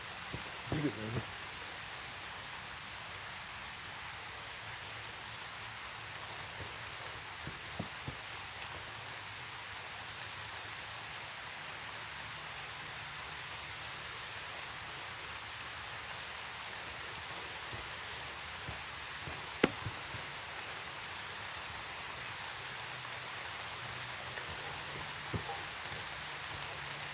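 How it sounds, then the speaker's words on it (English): Steady rain falling outdoors, a broad hiss of drops on surfaces with occasional louder drips and faint rustling, continuous and even throughout, with no voices. "I think it's raining."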